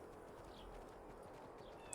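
A horse ridden at speed in a Wild West shooting video game, its hooves clip-clopping in a quick, continuous run, faint and steady throughout.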